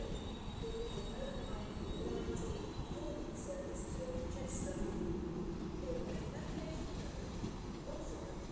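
A Transport for Wales Class 150 train running through Stockport station on the West Coast Main Line, with a steady rumble, wheel squeal and rail noise throughout, fairly close and sustained.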